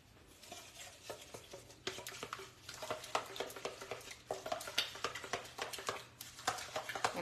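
An egg mixture being stirred with adobo seasoning in a bowl, a soft, steady patter of quick taps and scrapes repeating close and fairly faint, with no talking.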